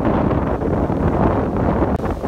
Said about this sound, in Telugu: ఇంకా ఇక్కడ గాలి దుమ్ము లేపుతుంది.